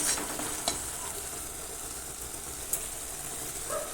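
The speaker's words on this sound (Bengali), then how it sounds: "এটাকে দিয়েও ভালো করে মিডিয়াম আঁচে কষতে হবে যাতে টমেটো আদার কাঁচা গন্ধটা চলে যায়" Tomato and ginger sautéing in oil over medium heat, a steady soft sizzle with occasional stirring scrapes throughout.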